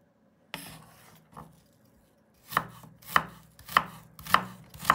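Knife chopping fresh ginger on a board: one sharp cut, a soft stroke, then five evenly spaced crisp chops, close up with quiet pauses between.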